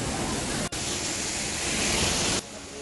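An artificial fiberglass (FRP) waterfall in a botanical garden gives a steady, close, broadband rush of falling water that continues throughout and drops slightly near the end.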